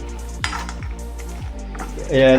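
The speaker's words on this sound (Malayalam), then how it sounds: "നെയ്യ് ഒഴിച്ച് വീണ്ടും നമ്മൾ ഏകദേശം എല്ലാത്തിലും ഒന്ന് സ്പ്രെഡ് ആവുന്നിടം വരെ ഒന്ന് ഇളക്കി കൊടുക്കുക" A spoon scrapes and stirs almonds roasting in ghee in a pan, a few rhythmic scraping strokes over a low steady hum, followed by a louder sizzle near the end.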